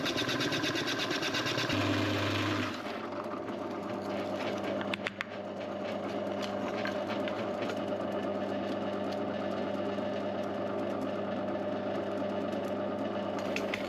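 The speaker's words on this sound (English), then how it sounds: "used a Forstner to take out the material to account for that. It was a 38mm Forstner in this instance." A 38mm Forstner bit bores into a wooden router base, giving a loud, continuous machine drone throughout, with a change in pitch early on and a brief knock partway through.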